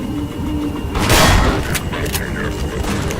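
Combine gunship firing in Half-Life 2 Synergy co-op play: a loud burst of gunfire and booming impacts peaks around the middle, followed by sharp cracks amid game noise, under chatter.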